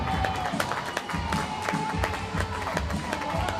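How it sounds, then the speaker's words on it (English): An ice hockey crowd at Solway Sharks versus Billingham Stars claps and cheers in a dense rattling wave, with sharp clicks and bangs scattered through a reverberant rink. "we'll get a round of applause for taking Harry Elder in"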